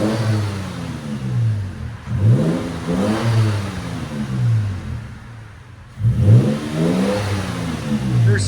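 Repeated revs from a 2022 Toyota Tacoma TRD 3.5L V6 fitted with an Xlerator muffler and black tip: several deep swelling blips that climb and fall back, a brief dip near idle, then another strong rev, loud and close.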